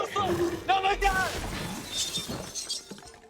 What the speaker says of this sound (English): Morticia finally breaks Wednesday's glass heart